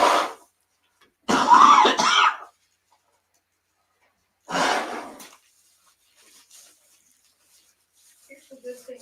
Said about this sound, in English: Here's the good thing about your cough.